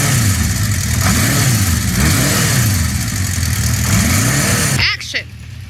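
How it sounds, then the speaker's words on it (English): Motorcycle engine revving with a throttle twist, loud and close, rising and falling in repeated waves for several seconds before cutting off abruptly, leaving a brief quieter tail; people talk over it. "You gotta rev it now."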